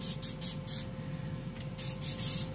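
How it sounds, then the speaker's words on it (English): Several short hissing bursts of an aerosol coconut oil cooking spray, close by, in quick pulses with brief pauses between them, over a steady low hum. "I'm going to spray the whole entire thing, all the surfaces"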